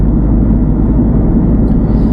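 A car's engine drones loud and steady from inside the cabin as the driver speeds up after changing gear on a West Didsbury driving test route near Sharston Roundabout, with no talk.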